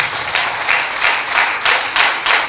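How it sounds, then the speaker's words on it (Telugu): A church congregation claps in praise during a Sunday service: loud, steady rhythmic claps in regular bursts, with no talk over them. "చప్పట్లు కూడా దేవుడిని స్తుతించాడు."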